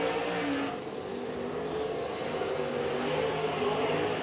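Sprint cars race at Tulsa Speedway in a feature event, the engine roar steady and continuous at a distance, with harmonic whine rising as a car opens up on the straightaway.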